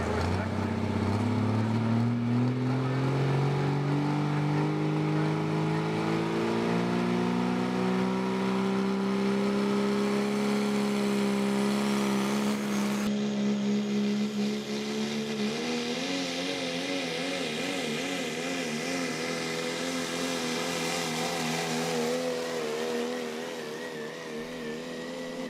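A Chapter 11 pulling truck at a truck and tractor pull, its engine droning loud and steady while the pitch climbs slowly as it works down the track, with talk faintly underneath.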